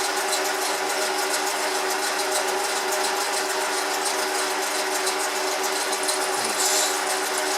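A metal lathe taking light finishing cuts on a small brass drain cock, a steady machine hum and whine with even tonal bands and a faint rhythmic chatter, continuous and fairly loud.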